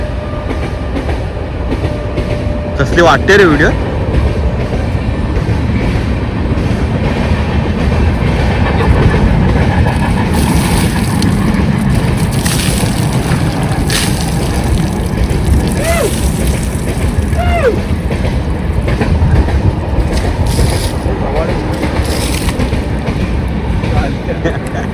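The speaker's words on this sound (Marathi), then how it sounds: "आणि इथे लगेच वेगळी नागिन गाडी आलेली आहे." A passenger train rolls past at close range with a steady, loud roar and rhythmic wheel clatter lasting throughout, while a voice speaks briefly over the rumble.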